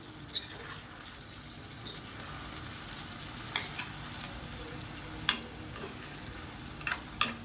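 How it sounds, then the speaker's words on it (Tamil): Egg thokku cooking in a pan, a faint steady sizzle with scattered clicks and scrapes of a spoon stirring, quiet and close with no talk. "இப்போ மறுபடியும் நல்லா பரட்டி விட்டுக்கலாம்"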